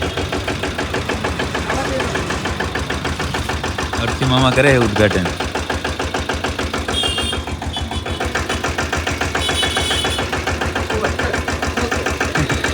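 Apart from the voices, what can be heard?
small new tractor engine started and idling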